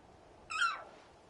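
A single bird call sounds in Final Fantasy 16, a short, bright descending cry lasting under half a second over a quiet background, with no talk over it.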